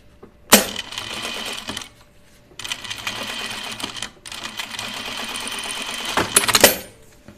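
A sewing machine top stitches a blouse seam in two long runs of steady, fast mechanical whirring, close and fairly loud, separated by a short pause, with brief handling clatter at the start and end.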